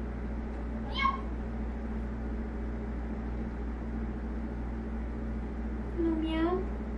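A pet cat meows twice, close by, with a short call near the start and a longer one near the end over a steady low room hum.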